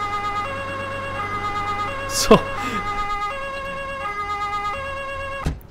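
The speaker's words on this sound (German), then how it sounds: "Ich geh erstmal die Sirene anmachen" Police siren switched on in a Polizei-Simulator video game, a steady wailing electronic tone running throughout with a brief sweeping whoop in the middle and a short sharp burst near the end, over faint background ambience.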